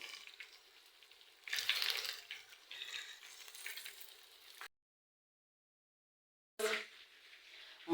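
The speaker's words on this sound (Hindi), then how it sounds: "बस हल्की आंच पे इनको फ्राई करते जाना है।" Chicken tenders and fries frying in oil over low heat, a steady soft sizzle that swells and fades, then cuts out briefly before a short burst of crackling and a clink.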